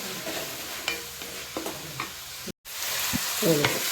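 Tomatoes frying with crab masala in a pan for crab sukka, a steady close sizzle broken by scraping stirs of a spoon, with a brief dropout midway and no talking.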